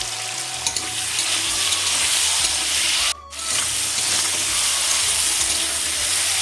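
Cut potatoes sizzling in hot oil with cumin, salt and turmeric, a steady loud frying hiss that runs throughout with a brief dip midway, no voices.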